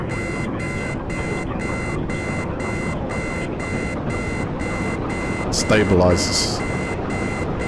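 Regular repeating beeps from a helicopter warning buzzer in the video game Arma 3 pulse steadily over heavy rotor and engine noise, with a brief spoken word and a short burst of extra noise near the end.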